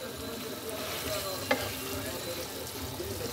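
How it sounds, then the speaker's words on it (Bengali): Boal fish heads sizzle and fry in a ginger-garlic spice paste, a steady loud crackle with occasional stirring scrapes in a home kitchen. "এখন এই মাথা দুটো ভালো করে মশলার সাথে কষিয়ে নিতে হবে।"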